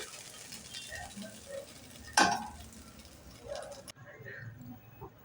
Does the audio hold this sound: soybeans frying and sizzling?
yes